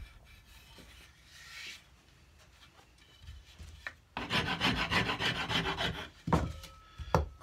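A shinto rasp shapes a wooden cigar box guitar neck, with faint scattered scrapes at first, then a dense run of loud, close, rhythmic rasping strokes and a few final strokes, with no voices.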